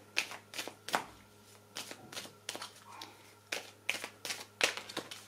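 Oracle cards being shuffled for a reading, heard as a quick run of crisp, riffling bursts in an irregular rhythm, close and fairly quiet.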